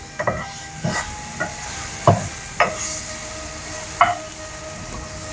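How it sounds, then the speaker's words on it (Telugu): Chutney ingredients such as dried red chillies fry in a pan with a steady, close hiss of hot oil, punctuated by several spatula scrapes and knocks as the mixture is stirred, no voices. "ఇది ఫ్రై అయిందేమో చూద్దాం ఒకసారి బా మస్తు ఫ్రై అవుతుంది కదా"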